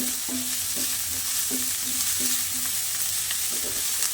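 Chopped onion, green chilli and curry leaves sizzle in hot oil in a pan, a dense steady fry broken by regular scraping strokes of a spoon stirring them, close and fairly loud.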